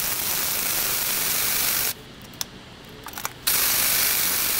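Steady hiss of a spray bottle spraying WD-40 as cutting fluid, broken by a pause with a few small mechanical clicks, then the spray resumes strongly.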